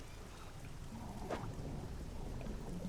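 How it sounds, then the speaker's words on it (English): Thunder in the fishing video game Dredge: a low, distant rumble rolling beneath a constant hiss of steady rain, with one brief brighter crackle midway and no voices. "Oh wait, no, that's the thunder."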